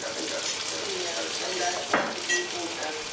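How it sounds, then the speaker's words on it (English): Chicken wings fry in hot oil with a busy, crackling sizzle close by, running steadily throughout, with a couple of brief louder pops or clatters near the end. "The frying process is, I hope, going really well."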